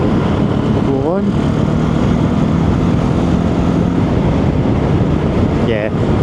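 A Benelli TRK 702 motorcycle engine drops into fifth for an overtake, its drone half-buried under loud wind rush, with brief rising rev sweeps, and a rider's voice speaks briefly.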